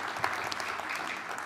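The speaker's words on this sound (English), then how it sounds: "he deserves a round of applause" Audience applause at a live winter speaker series talk, a steady patter of clapping from a crowd held at an even level for a short stretch, with no voices standing out.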